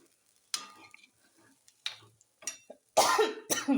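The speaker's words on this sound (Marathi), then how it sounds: "ठसका छान लागला" A person coughs several times in short bursts, with throat clearing, while cooking fasting-day amti and rice; the coughs are close and separated by quiet gaps, with faint kitchen clatter.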